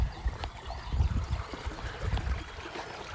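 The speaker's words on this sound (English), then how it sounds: "The sound of water." Running water of a stream in a blooming, humid Japanese countryside, a low continuous burble and trickle heard close by, steady throughout with no talking.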